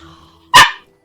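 A dog in the video game My Time at Sandrock gives one sharp, close bark against a faint background hum.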